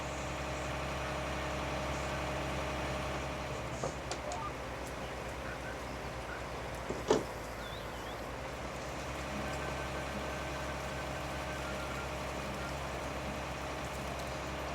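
A farm tractor engine idles steadily and close by throughout, a constant low drone with brief clanks partway through and no talk over it.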